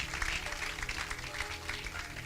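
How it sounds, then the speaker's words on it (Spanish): A church congregation in Uruguay applauds at a worship service, a dense sustained clapping that fills the space throughout, loud and even with no pauses. "Dale el aplauso"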